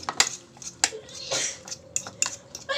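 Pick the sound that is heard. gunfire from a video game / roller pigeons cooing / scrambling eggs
scrambling eggs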